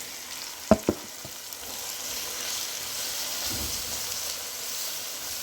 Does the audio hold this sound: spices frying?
yes